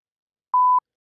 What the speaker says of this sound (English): There's a beep button.